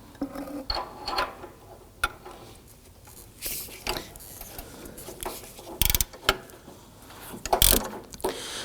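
Close, sharp ratchet clicks in short bursts as a tool snugs down an upstream O2 sensor on a 2005-2009 Subaru Legacy 2.5L, with quiet pauses between the strokes.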